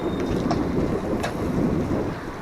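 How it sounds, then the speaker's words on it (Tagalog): Strong sea waves at Tondaligan Beach, a continuous low rumbling surf wash mixed with heavy wind buffeting the microphone, with brief faint knocks and no talking. "Lakas ng alon."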